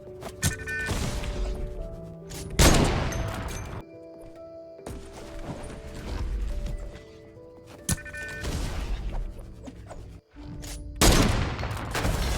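Gunfire in the Fortnite video game, with bursts of sharp shots and loud crashing impacts in several clusters, close and punchy, followed by short gaps of quieter game ambience.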